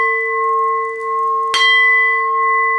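A homemade bell wind chime is struck once by a softwood clapper. The sharp hit lands over tones that were already ringing, and the bell then hums on in a clear, sustained way.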